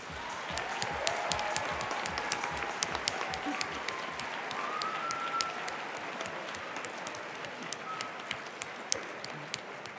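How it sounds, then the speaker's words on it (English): Audience applause at a university programming competition final, honoring the tournament finalists: steady, dense clapping from a crowd, sustained at moderate distance with no talk over it. "Can we give everyone a huge round of applause, please?"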